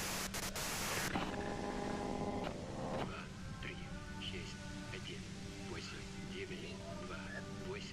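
Hissing radio white noise from the Disco Elysium video game fills the whole stretch, loud and steady at first, then settling under faint scattered tones and background game sounds.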